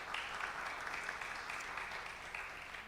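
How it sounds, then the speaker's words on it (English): Audience applause at a community event for Dr. Oliveros, a steady, moderately distant wash of clapping that holds evenly for about three seconds without voices. "Let's give Dr."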